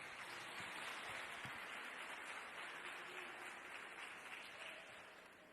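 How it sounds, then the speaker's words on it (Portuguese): Church congregation giving a warm round of applause to welcome a pastor, a dense, steady wash of clapping that fades slightly toward the end, with no talk over it. "receber a pastora Rosane com uma linda salva de palmas."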